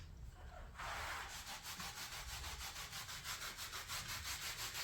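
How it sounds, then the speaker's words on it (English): A rag or brush rubbing hard on a junkyard Nissan Sentra SE-R trunk mat to lift grease stains, with a steady, rhythmic back-and-forth scrubbing up close that is moderately loud, with no talking. "Wherever you notice those grease stains, just rub them."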